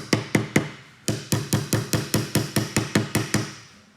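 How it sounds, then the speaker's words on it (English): A hammer's flat face taps nails into timber in a steady series of about fifteen light, close strikes, with a short pause after the first three, and no voices. "we're just very gently using the flat surface of the hammer"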